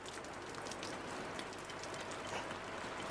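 Steady rain falls on a surface, a dense even hiss of drops that stays constant and fairly close without any voices over it.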